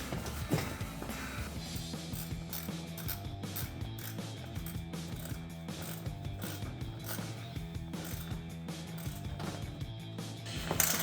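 A hand ratchet tightens fasteners on an aftermarket Toyota Tacoma projector headlight housing, a long steady run of quick rhythmic clicking close to the microphone.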